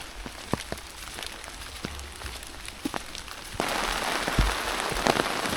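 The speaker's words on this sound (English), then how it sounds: "And the rain is coming down heavier and heavier and heavier." Rain patters steadily through pine and broadleaf woods, a soft, even hiss with occasional close drips, then jumps to a much heavier, louder downpour partway through.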